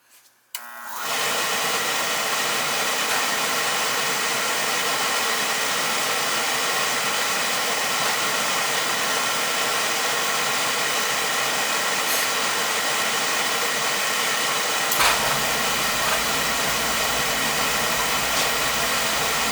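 The motor of an oil burner that had been stuck switches on after a second of quiet and runs on as a loud, steady, hollow roar, like a blower, nearby and unbroken to the end.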